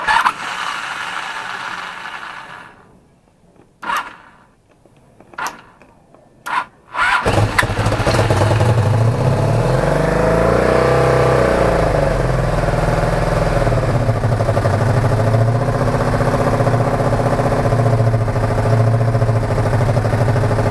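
A Honda VF1000F motorcycle with a transplanted engine, its starter solenoid burnt out, first gives a few short stuttering cranks and bursts, then catches and runs loudly and steadily for the rest of the clip with rising and falling revs.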